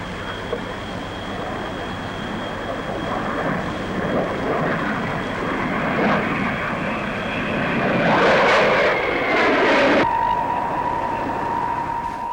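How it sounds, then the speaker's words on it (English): A Hawker P1052 jet with a Rolls-Royce turbojet flies past at an airshow, a broad roaring whoosh with a high engine whine that builds toward a louder peak, then drops to a steady tone as it recedes. "One of the very latest, a Hawker P1052 powered by a Rolls-Royce lean turbojet."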